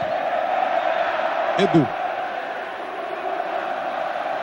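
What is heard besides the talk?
football crowds of both teams cheering at Morumbi stadium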